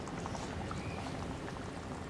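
Potato and dried shrimp curry boiling in a pan, a dense continuous bubbling and sizzling close up, steady and alone without voices.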